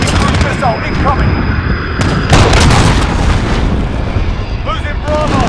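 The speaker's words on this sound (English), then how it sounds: "Cruise missile incoming." A cruise missile explosion in Call of Duty's Domination mode on the Gun Runner map: a loud, deep booming blast bursts out over steady gunfire and battle noise, with game voice chatter running throughout.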